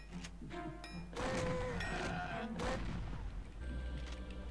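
A shotgun fires in the Dementium 2 video game, with two loud booming blasts about a second and a half apart over tonal game sounds and background noise.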